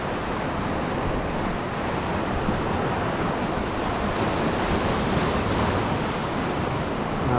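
Ocean waves surge and break against shoreline rocks at a fishing spot, a loud continuous rushing wash mixed with wind noise.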